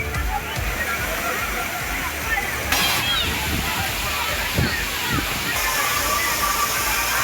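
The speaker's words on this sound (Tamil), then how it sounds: "கன்னியாகுமரி மாவட்டம் திருப்பரப்பு அருவியிலும் அருகில் உள்ள நீச்சல் குளத்திலும் ஏராளமான சுற்றுலாப் பயணிகள் குளித்து மகிழ்ந்தனர்" Thirparappu waterfall in Kanyakumari pours steadily while tourists bathe, a dense, constant roar of falling water with splashes and scattered voices mixed into the wash.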